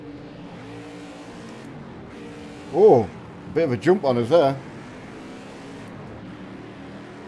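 A V8 race car engine in Project Cars 2 drones steadily in the background while someone talks over it.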